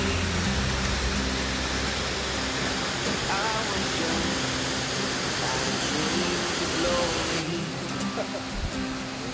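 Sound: Jaein Waterfall falling water

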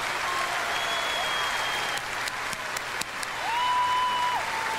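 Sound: concert audience applause

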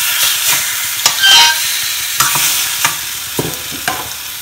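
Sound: eggs cooking on low flame in a non-stick pan

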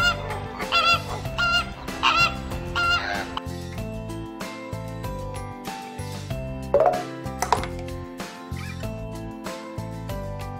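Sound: flamingo call

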